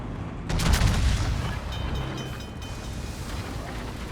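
Naval gun salvo in the World of Warships video game, a loud booming shot at about half a second with a rolling rumble that fades over several seconds, no talking.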